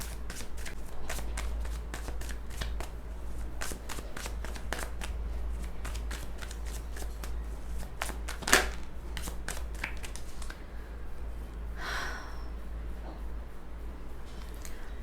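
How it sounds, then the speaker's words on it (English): A deck of tarot cards is shuffled by hand, with crisp riffling flicks repeating steadily and a brief louder snap partway through, over a low constant hum with no talking. "I was shuffling and the card wasn't coming out"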